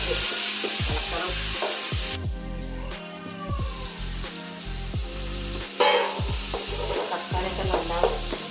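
Tomato masala frying in a pan for chicken fry, stirred with repeated scraping strokes over a continuous sizzle, with background music playing.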